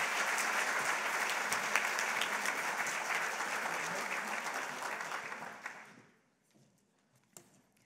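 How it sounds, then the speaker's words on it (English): Audience applause at an awards luncheon, a dense steady clapping from a seated crowd that tapers and fades out after several seconds, leaving a few scattered faint sounds. "Give her a big round of applause."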